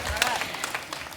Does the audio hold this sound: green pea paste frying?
no